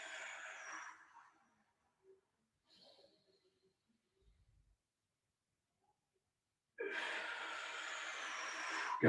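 A person breathes during a Pilates side-bend exercise, with a loud close breath at the start, a few faint soft breaths, then another strong sustained breath near the end, separated by near silence.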